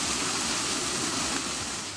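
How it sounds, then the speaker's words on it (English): A waterfall in the Costa Rican rainforest, fed by a stream, gives a steady, dense roar of rushing water that holds constant throughout, with no voices. "Follow a stream until you find this, your very own waterfall."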